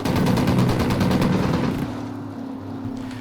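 Gunfire bursts in the video game Ghost Recon: Wildlands, a dense run of loud rapid shots that thins out after a couple of seconds into a steady low rumble; the grenade blast itself is not clearly picked out.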